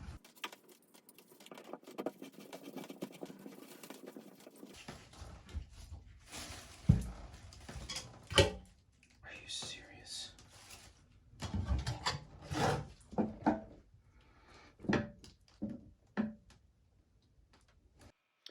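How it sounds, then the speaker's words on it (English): Screws being put back and tightened into a shower drain cover, heard as faint close ticks, scrapes and small metallic taps in irregular bursts against a quiet room, no talking. "Put these back in and just tighten it back down."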